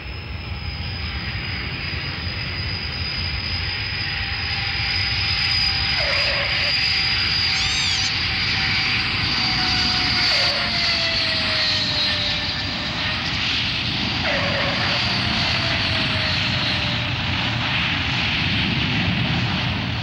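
An airliner's engines roar steadily at Stansted Airport in Essex, a continuous loud drone with a high whine running through it, shifting slightly in pitch as the aircraft moves.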